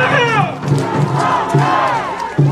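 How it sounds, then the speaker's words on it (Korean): A crowd at a political rally for Yoon Suk-yeol shouting and cheering together, loud and close, with rising and falling chanted voices over a dense roar of the gathering. "여러분의 이 응원, 여러분의 이 함성"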